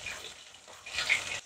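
Milkfish belly frying in oil, Taiwanese style: a steady bright hiss and crackle throughout, swelling louder toward the end, with no talk.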